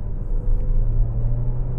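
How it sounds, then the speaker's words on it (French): Petrol engine of an Alfa Romeo Tonale 1.5 Hybrid in sport mode: a steady, low drone with a constant rumbling hum, heard from inside the car, no voices. "c'est le son du moteur."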